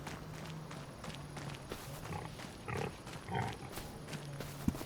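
Pigs in a pigsty in Farming Simulator 25 give short grunts and snorts, scattered among soft trotting and shuffling steps, fairly quiet and close with a sharp knock near the end.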